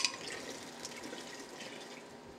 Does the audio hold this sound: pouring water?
yes